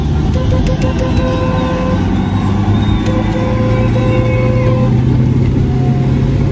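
Someone's car restarting, a loud steady engine roar with a rumbling low drone and a few sharp clicks, continuous under talk.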